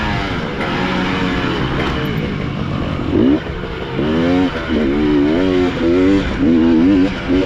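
A motocross bike engine revs and shifts pitch through rising and falling sweeps during a race, loud and close, with harmonic whines climbing repeatedly over steady background roar.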